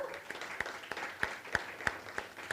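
A small audience at a city government gathering claps in a slow, even rhythm; the individual claps sound sparse, fairly faint and somewhat distant.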